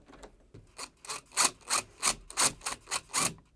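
A long bolt screwed in to join a pair of locking door levers, heard as about ten quick rhythmic rasping turns, close and clear, with no speech.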